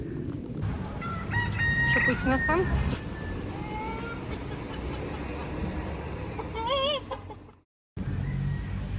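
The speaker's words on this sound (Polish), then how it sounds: "wszędzie chodzą koguty po ulicach" A rooster crows nearby on a street in Key West, Florida, with a series of rising harmonic calls, over steady street noise and a passing engine; a person speaks briefly.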